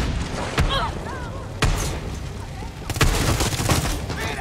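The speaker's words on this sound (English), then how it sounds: "they're throwing grenades at us" Grenade blasts and gunfire in the Far Cry 6 shooter game, with sharp booming bursts near 0.6, 1.6 and 3 seconds over a steady rattle of shots, loud and close, with voices talking over the battle.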